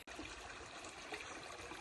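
A creek swollen by heavy rains rushes in a continuous, faint, even wash of flowing water, with no voices.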